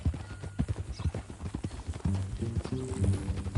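Horse hooves clip-clop steadily in Red Dead Redemption 2, a rapid rhythmic trot close by, with a brief whinny and low ambient tones toward the end.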